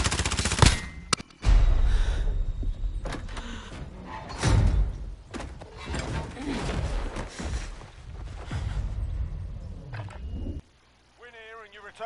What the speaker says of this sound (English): Sustaining hits. I'm taking fire! They're lighting me up.